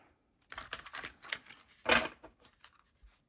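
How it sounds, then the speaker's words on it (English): A deck of cards being shuffled by hand during a tarot-style reading, heard as a run of crisp, close riffles and flutters in uneven bursts, with one louder rippling riffle near the middle and no talking. "I do tend to shuffle very intuitively"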